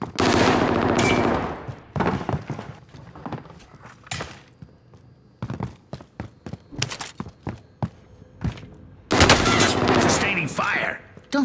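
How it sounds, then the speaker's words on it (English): Gunfire in a Rebirth match from a video game, loud rapid bursts of automatic fire broken by short pauses and single shots, with heavy sustained volleys at the start and the end. "I'm taking fire!"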